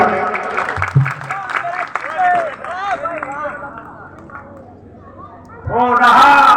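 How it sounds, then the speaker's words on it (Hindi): Audience at an outdoor Ramleela performance of a Ravan–Banasur dialogue scene clapping for the performer, a dense burst of applause mixed with crowd chatter and a voice over a loudspeaker. "भाई एक बार कलाकार के लिए ताली बजाते हैं।"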